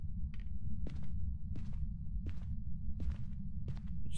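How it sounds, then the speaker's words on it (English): Ghost footsteps in the horror video game Phasmophobia, six evenly spaced thuds about every 0.7 seconds, close by and clear above a steady low rumbling background. "I heard the footstep literally right there, so we already know where's the ghost."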